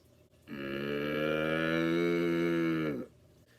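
A person imitates a cow mooing with one sustained, low, nasal moo lasting a few seconds, loud and close, with no other talk.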